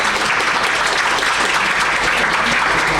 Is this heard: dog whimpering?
no